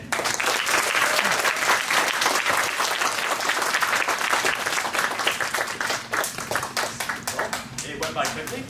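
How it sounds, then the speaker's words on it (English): Audience at a speaker-series event applauding the speakers, a loud, dense burst of many hands clapping that continues for several seconds, gradually thinning into scattered claps near the end. "a round of applause again."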